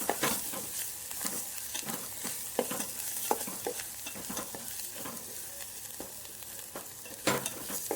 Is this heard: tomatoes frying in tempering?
yes